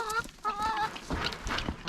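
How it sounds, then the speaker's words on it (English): Chickens on a farm in freezing January cluck and call in short warbling bursts, close and fairly quiet, a few overlapping voices over about two seconds. "so here are our chickens."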